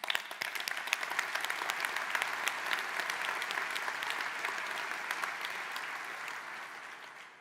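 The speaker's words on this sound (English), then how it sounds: "I want to say thank you and a round of applause for everything that you do." A large audience applauds in a dense, sustained burst that holds steady, then gradually tapers off at the end.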